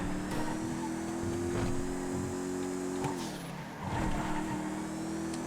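Engine of the Bullet GT3 car in GTA FiveM, a steady mid-pitched drone holding revs, dipping briefly as it lifts off around the middle, then climbing back, loud and continuous with no talking.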